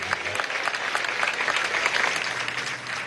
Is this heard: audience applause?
yes